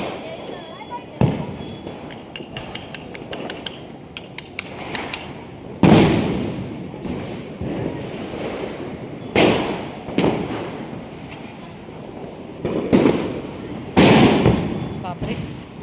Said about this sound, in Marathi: ते पण चालू फटाके जोरात यायला पाहिजे रात्री